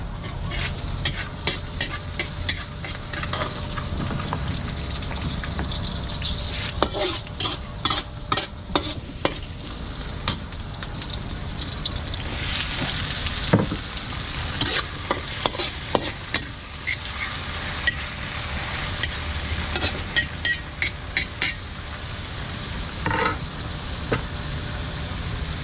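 Food bubbles and sizzles steadily in a hot pan, with crackling pops and occasional clinks of a utensil stirring, no voices.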